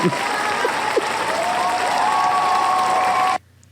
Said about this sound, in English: Listen to all of our Patreon subscribers cheer.